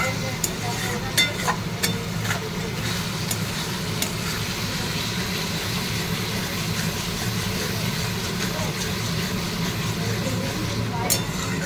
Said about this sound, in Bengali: চিংড়ি মাছের দো পেঁয়াজা রেডি হচ্ছে